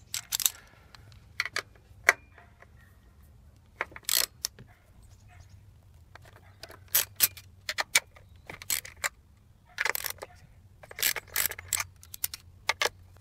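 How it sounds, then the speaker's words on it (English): A ratchet on a deep 10mm socket and extension works on a Corvette's spark plug area, producing sparse bursts of sharp metallic clicking separated by quiet gaps, fairly close. "So I'm going to use a deep 10mm socket with an extension and a ratchet."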